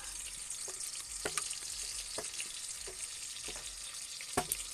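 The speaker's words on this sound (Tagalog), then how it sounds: "Ipiprituhin natin siya." Steady sizzling of food frying in hot oil, a continuous crackling hiss with occasional sharper pops and spatters, close and fairly loud, no talking.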